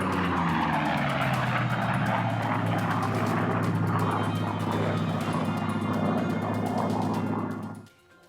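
A Chance Vought Corsair warbird's aircraft engine roars loud and close at a Warbirds in Review 2019 event, holding a steady droning pitch before cutting off abruptly near the end.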